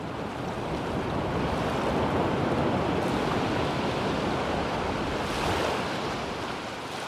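Ocean waves wash against Chotdae candlestick rock on the Donghae coast, a steady broad roar of surf with gentle swells, close and continuous, mixed with wind buffeting the microphone.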